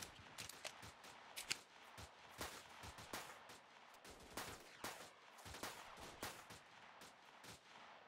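Video game gunfire, an AK-style rifle, fires in repeated sharp bursts and single shots throughout, quiet and distant in the mix with no talk.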